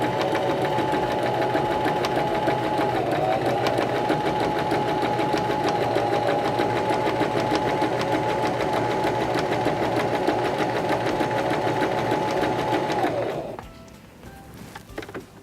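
A Singer Start 1306 sewing machine runs zigzag stitches through fabric with a steady, close, continuous motor whir and rapid needle chatter for about thirteen seconds, then stops abruptly, leaving a quieter room.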